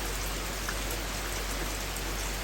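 Steady rain falling on a sailing catamaran in the Bay of Islands, a dense soft hiss of drops on a surface, continuous and even throughout with no voices.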